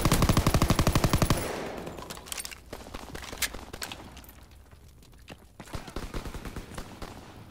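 Rapid machine-gun bursts from Call of Duty WWII open loud and close, then give way to scattered single gunshots and shorter volleys in the distance.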